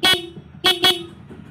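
Car horn wired into a passing-light circuit on a vehicle with modified wiring, sounding three short loud toots: a single blast, a pause, then two quick blasts close together.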